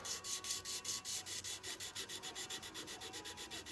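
Hand sanding with rapid, even back-and-forth rubbing strokes, a steady rasping rhythm heard close and fairly quiet, with nothing else in the background.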